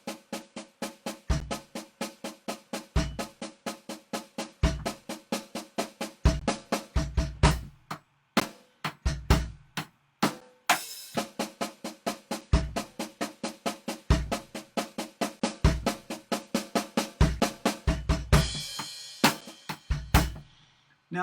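A drum kit plays a note-grouping exercise of sevens and a four across two bars of 4/4, with hands and foot giving dense, rapid strokes punctuated by regular kick accents, loud and close with no talking.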